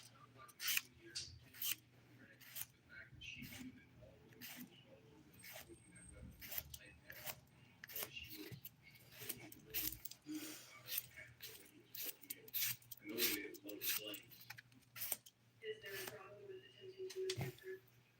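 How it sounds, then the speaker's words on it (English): Fingernail filed on a manicure with glitter and dip powder, giving short scratchy strokes in irregular bursts, close but faint, with pauses and a low steady hum behind. "I think it's a little bit of both that I'm filing away here."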